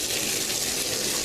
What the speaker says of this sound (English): I'm going to turn the water on and we're going to test it.